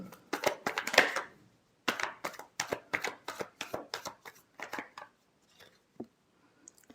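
Tarot cards shuffled close by in a quick burst of soft, papery riffles that thin out into a few scattered taps and then near silence.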